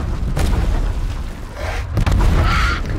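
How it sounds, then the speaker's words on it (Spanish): A loud, sustained rumbling blast with deep booming roar and crackling debris, continuous and heavy throughout with a second surge near the end, from the video game House of Ashes. "Lo peor es que esta explosión sirve para algo."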